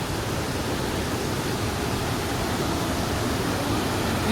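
A strong current of water rushes steadily at a hot and cold spring resort, a dense, continuous roar heard close up with no pauses.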